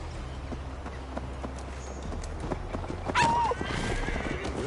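A horse in Assassin's Creed Valhalla, its hooves clip-clopping at a steady pace, then a sharp, loud whinny followed by continued hoofbeats over a low background rumble.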